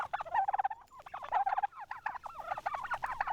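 Turkeys on a farm, heritage breeds and bronze-breasted birds, give close, fairly quiet bursts of rapid gobbling in several overlapping runs, with no voices.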